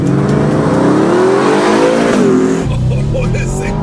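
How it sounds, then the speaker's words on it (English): A car engine revs up and launches hard at a drag race, rising in pitch through gear changes, loud and close, with a voice speaking briefly over it. "this thing takes off like you wouldn't believe"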